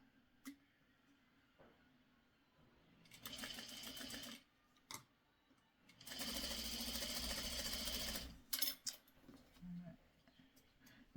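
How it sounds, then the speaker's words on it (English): A sewing machine stitches pieces of a Christmas tree quilt kit together in two steady bursts of a few seconds each, close and moderately loud, with quiet handling noises around them. "I'm going to sew K to DD."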